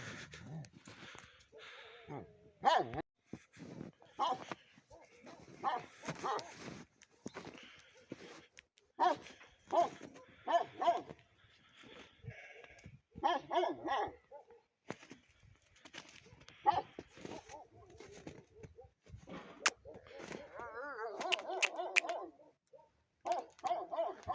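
Several dogs bark, yip and whimper in irregular bursts at feeding time, fairly close, with a person speaking now and then among them.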